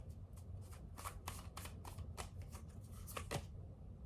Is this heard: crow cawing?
no